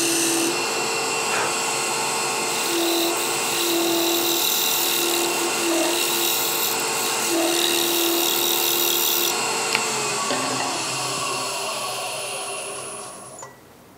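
A lathe tool cuts away wood on a hollow sphere with a steady, loud, continuous whine and scraping hiss, near and unbroken until it tapers off at the end, with no talk.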